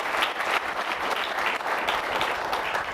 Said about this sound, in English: A big round of applause for the man himself, George Blaha.